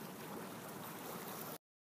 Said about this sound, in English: Listen to those waves.